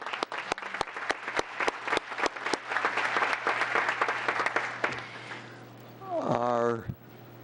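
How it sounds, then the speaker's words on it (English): A roomful of people at a town council meeting applauds Boy Scouts with steady clapping that fades out after about five seconds, followed by a voice speaking briefly. "let's give them a nice big round of applause"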